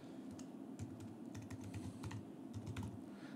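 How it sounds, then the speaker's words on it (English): Quiet rapid keystrokes on a computer keyboard, a close, irregular run of soft clicks as email addresses are typed into Gmail, with no talking. "So you can just type in email addresses."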